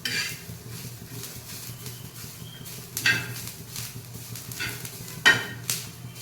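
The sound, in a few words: masala spices being roasted and stirred in a pan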